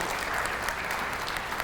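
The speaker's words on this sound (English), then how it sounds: "let's give all of those staff members a big round of applause" An audience at a kindergarten graduation ceremony claps in a steady, dense burst of applause, brief and moderately near, with no voices over it.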